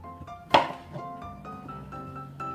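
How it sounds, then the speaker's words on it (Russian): Knife slicing raw champignon mushrooms on a board: one sharp cut near the start followed by several softer, irregular slices, close and quiet with faint background hum. "Сейчас я режу шампиньончики."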